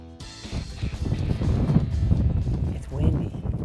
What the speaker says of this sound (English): It's windy in the hill country.